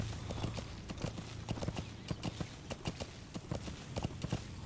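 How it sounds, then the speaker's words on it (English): Horse hooves clip-clop steadily in Metal Gear Solid V, a rapid, even rhythm of sharp hoof strikes that runs throughout at moderate volume with no talk over it. "Horse."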